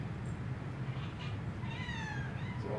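Several small, high-pitched meows from alley kittens rescued to an attic come one after another, fairly close but soft, over a constant low background hum.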